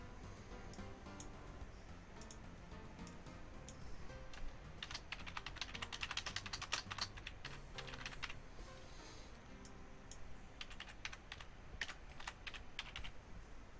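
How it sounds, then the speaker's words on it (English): Rapid keystrokes on a small computer keyboard with very sensitive keys, tapping steadily for the whole stretch and growing busier and louder in the middle, heard close up with no voices over it. "Is that my keyboard?"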